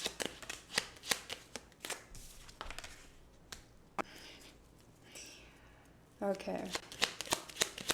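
Tarot cards being shuffled in the hands, with repeated crisp riffling and slapping strokes at a steady pace, close up, and a brief spoken word near the start.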